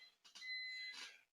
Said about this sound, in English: I don't know if you hear that alarm in the background